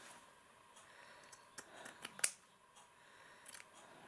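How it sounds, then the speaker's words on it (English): Scissors snipping lace fabric scraps for a jewelled clutch, a few faint, close clicks and crisp snips scattered across a quiet room. "Let's just cut these bits off here."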